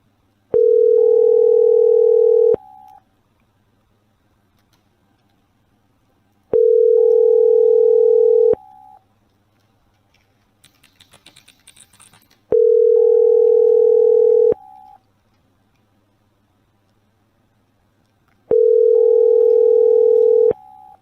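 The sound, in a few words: phone line ringing, call unanswered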